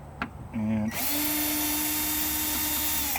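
Power drill whirring steadily as it drives out door hinge screws on a 2018 Jeep Wrangler JLU, starting with a brief spin-up and then a loud, continuous close whine.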